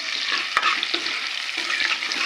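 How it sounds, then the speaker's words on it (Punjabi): Onion with garlic and ginger frying in a pan on a home stove for dal makhani, giving a steady close sizzle with stirring scrapes and a sharp clank near the start, with no talking. "ਹੁਣ ਆਪਾਂ ਇਹਦੇ ਵਿੱਚ ਪਿਆਜ਼ ਪਾਤਾ ਹੈ ਹੁਣ ਪਿਆਜ਼ ਨੂੰ ਭੁੰਨਾਂਗੇ ਆਪਾਂ ਥੋੜਾ ਜਿਹਾ"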